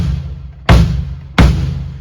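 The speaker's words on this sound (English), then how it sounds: "So burying the beater sounds like this." Two bass drum strokes land about 0.7 seconds apart with the beater buried into the head, each a deep, dull thump with a short choked decay, played alone and close.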